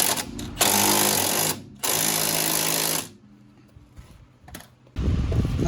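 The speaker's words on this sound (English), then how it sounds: "It's lined up with the impact gun. Okay, I had to switch to a 14. Let's tighten it up." An impact gun with a 14 mm socket tightens a front strut bolt on a 1999 Honda Accord. Two loud rattling bursts of about a second each come close together, followed by a quieter pause and a third burst starting.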